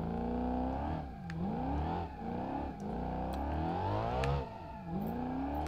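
A car engine in the BeamNG driving game revs repeatedly, rising and falling in pitch several times with brief dips between pulls, loud and close with no talk.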